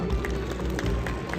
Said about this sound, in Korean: 김석환 현대부전 실장님께 다시 한번 박수 부탁드리겠습니다